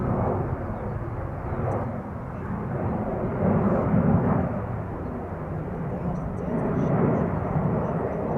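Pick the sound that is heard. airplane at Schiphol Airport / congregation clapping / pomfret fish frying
airplane at Schiphol Airport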